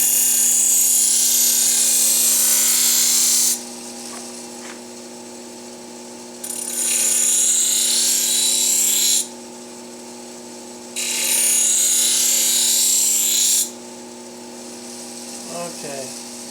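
A blade is ground on a sharpening wheel, bursts of bright hissing grinding lasting a few seconds each, three passes separated by quieter stretches where only the motor's steady hum remains, close and loud.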